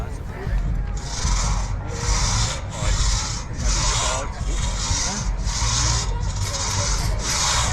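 A two-man crosscut saw works through a log at a machinery field day, its long strokes rasping back and forth in an even rhythm of about eight pulls, loud and close.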